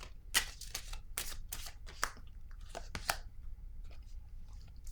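Tarot cards are shuffled and drawn close up, with quick bursts of riffling and snapping in uneven clusters over a quiet background and no talking.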